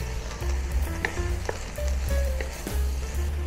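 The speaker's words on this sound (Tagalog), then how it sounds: "Yan, saute lang natin lightly." Beef and broccoli sautéing in a pan, a steady close sizzle and frying hiss, with a few scraping stirs and light clicks from the utensil, and no talking.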